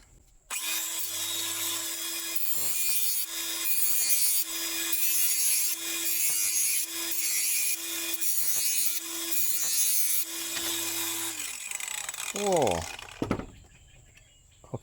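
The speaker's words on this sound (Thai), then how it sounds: "ลองเจียให้ดูนะครับ" A cheap 4-inch cordless angle grinder whines at a steady high pitch, grinding and rasping against material for about ten seconds before spinning down; a voice speaks faintly near the end.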